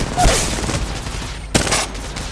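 Two short bursts of gunfire in Apex Legends Mobile, one at the start and another about a second and a half later, with a low game rumble between them.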